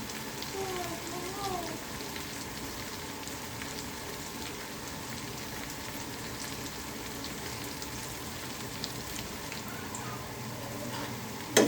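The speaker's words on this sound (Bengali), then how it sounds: "এই যে দেখুন দুই সাইডটি সুন্দর করে ভাজা হয়ে যাচ্ছে পারফেক্টভাবে" A chicken chap fries in a pan with a steady, even sizzling hiss that carries on unbroken from start to finish at a moderate level. Faint voices may sit underneath.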